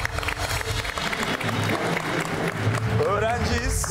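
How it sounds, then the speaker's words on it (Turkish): Studio audience applauds on a Turkish live TV talk show, a steady burst of clapping mixed with crowd murmur and voices, moderately loud throughout. "hanımefendiye kocaman bir alkış"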